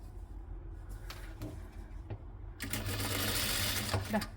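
A sewing machine stitching the neck of a dress starts with a few clicks and handling knocks, then runs steadily and loudly in a fast, even whir for the final couple of seconds.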